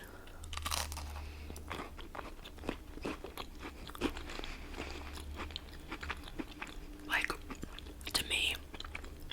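Crunchy chewing and biting of a flaky, crusty McDonald's pastry, close to the microphone in a quiet room, with soft whispered talk between the bites.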